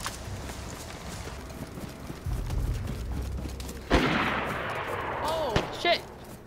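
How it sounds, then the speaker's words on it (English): Gunshots in DayZ crack as sharp isolated reports amid outdoor ambience, a few scattered shots at a distance, with a rumbling burst and some movement noise between them. "I think they're shooting at them, and we're just hearing the snaps."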